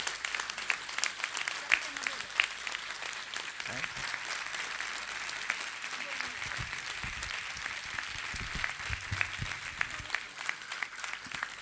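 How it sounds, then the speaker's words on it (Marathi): A crowd at a gathering applauds steadily for the children's parents, a dense continuous clapping that stays even throughout, with some voices mixed in. "मंडळी बरोबर मोजून 2 मिनिटं ह्या मुलांच्या आई बापासाठी टाळ्या वाजू देत"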